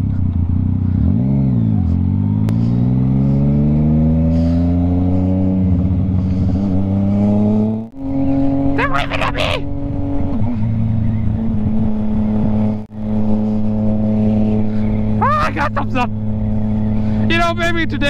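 A 120-horsepower motorcycle engine revving and shifting while riding, loud and close with rising and falling pitch through the gears, brief drops between shifts, and someone talking over it.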